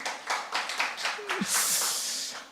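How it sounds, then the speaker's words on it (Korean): Church congregation applause, a scattered run of hand claps that swells into a dense wash of clapping, with a brief voice in the middle. "우리 하나님께 영광의 박수 올려드릴까요?"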